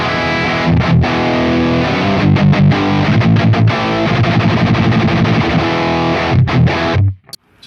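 Heavily distorted electric guitar through a Fractal Axe-FX III modeled Marshall JCM 800 patch with a 4x12 cabinet, chugging palm-muted riffs and chords, loud and up close, cutting off abruptly at the end.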